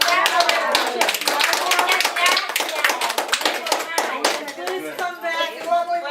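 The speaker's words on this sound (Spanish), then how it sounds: "Gente, vamos a darle un aplauso." A small group claps loudly and close at a fire safety and fire prevention community gathering, quick individual hand claps clearly separated, with voices cheering and calling out over them.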